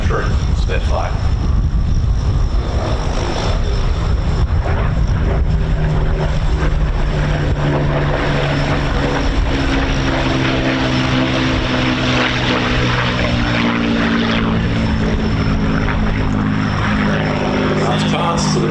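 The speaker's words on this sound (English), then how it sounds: "This is a genuine combat veteran Spitfire." A genuine combat veteran Supermarine Spitfire makes a pass at an air show, its propeller engine droning steadily and loudly throughout, with a commentator talking over the sound.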